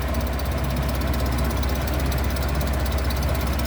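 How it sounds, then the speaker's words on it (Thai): Four-cylinder 16-valve engine fitted in a tuk-tuk idling up close, a steady, even low rumble with fine rapid ticking that holds constant, no talking. "รถสี่สูบสิบหกวาล์วรถคันนี้นะ เครื่องก็จะประมาณนี้แหละ"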